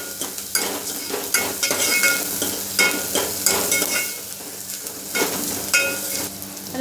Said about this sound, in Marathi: चांगलं तेलात परतून घ्या.